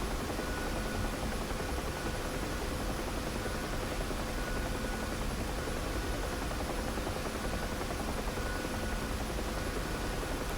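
Huey helicopter in DCS flying past an airbase, its steady rotor and turbine drone continuous and loud throughout with no pauses.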